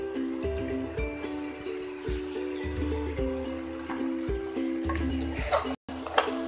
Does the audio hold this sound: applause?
no